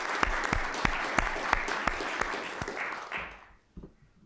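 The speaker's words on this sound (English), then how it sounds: "I'd like to give them a round of applause because they certainly deserve it" An audience at a report release event for environmental engineering claps together in a crisp burst of applause that stays fairly even, then thins out and fades to near silence, with a last stray clap or two.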